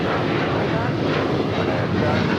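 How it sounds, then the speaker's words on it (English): A United Airlines Boeing 737-900ER takes off at LAX with a loud, dense, continuous jet roar close by, filling the whole moment without a break. "1564 taking off to San Francisco on the 737-900ER"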